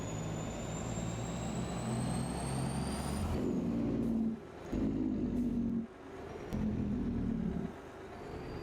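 Truck in a video game, a long lumber hauler, a constant low engine drone with a faint high whine, broken by short gear-shift gaps and air-brake hisses, without talk.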